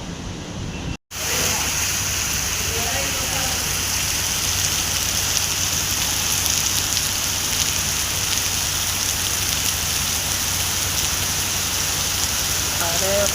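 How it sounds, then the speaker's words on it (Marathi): Heavy rain pours down in a dense, steady hiss that stays loud and even throughout, broken only by a brief dropout near the start. "सकाळपासून पाऊस बघा कसा पडतोय."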